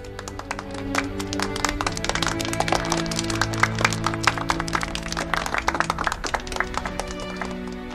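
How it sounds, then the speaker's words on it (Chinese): A room of officials applauds after a short speech at a prison handover meeting, dense irregular clapping close by that builds and then thins over several seconds. "鼓掌。"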